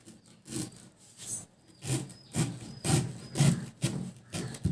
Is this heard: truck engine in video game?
no